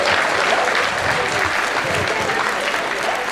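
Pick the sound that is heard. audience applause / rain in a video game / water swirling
audience applause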